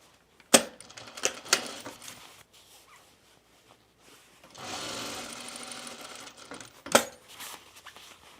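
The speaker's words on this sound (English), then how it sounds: "I'm just going to sew it right sides together around the edge" A sewing machine stitches around the edge of a lined bomber jacket pocket with right sides together, the run coming in a sustained burst midway, set among sharp clicks and knocks from handling the fabric.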